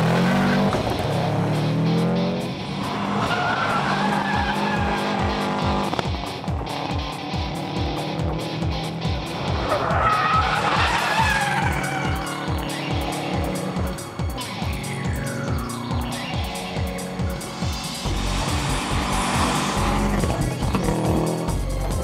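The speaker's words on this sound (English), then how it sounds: "I'll join you in the rally car" A rally car drives hard with its engine revving up and down through repeated acceleration bursts, punctuated by tyre squeal and skidding, loud and close throughout without speech.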